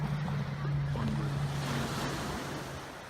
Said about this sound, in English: the ocean is lapping my feet